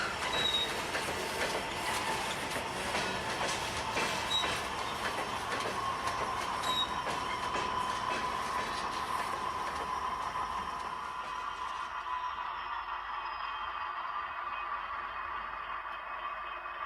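An HO scale model coal train brakes to a stop with a steady rolling rumble and a high wheel squeal, continuous and fairly faint, which thins out toward the end.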